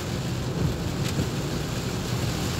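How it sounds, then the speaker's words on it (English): Steady rain hisses loudly and evenly throughout, a dense broadband wash with low rumbling underneath and no voices. "Yep, it is raining now."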